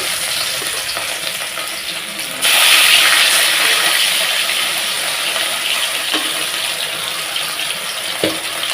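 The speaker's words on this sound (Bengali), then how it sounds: "তেলটাও আমার গরম হয়ে গেছে মাছগুলো ছেড়ে দিচ্ছি" Fish slipped into hot oil in a wok for a bottle gourd fish curry: a soft background hiss jumps to a louder, crackling sizzle as the pieces go in, then settles into steady frying with an occasional clink.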